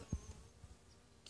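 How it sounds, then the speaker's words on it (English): A faint buzzing hum of bees around summer squash and cucumbers in a front yard garden, with a brief louder buzz passing close by near the start, in quiet outdoor surroundings. "So the bees are going crazy."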